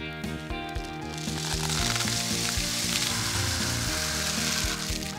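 Homemade rainstick filled with rice being turned, giving a dense, continuous rattling patter like steady rain, building slightly in loudness and heard alone at close range.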